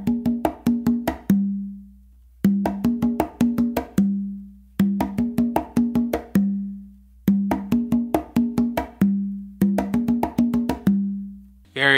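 Congas playing a guaguanco tumbao, a repeating phrase of quick sharp slaps and open tones with a ringing low tumba note ending each cycle, close, alone and evenly spaced.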